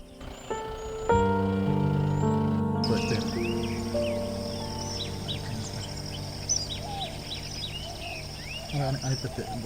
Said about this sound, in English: this group of noisy rosy starlings and brown shrike